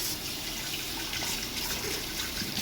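Water runs from a tap in a steady, close, continuous hiss and trickle while rice is rinsed to wash out stones; no one speaks.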